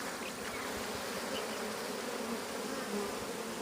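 Honeybees buzz in a dense, continuous hum around an open hive during a March inspection of brood frames, a close and even drone throughout.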